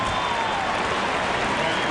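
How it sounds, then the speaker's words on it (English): Remaining fans at Memorial Stadium give a tepid round of applause during a Texas Tech at Nebraska college football game, a continuous wash of distant crowd clapping. "those remaining here at Memorial Stadium with a tepid round of applause"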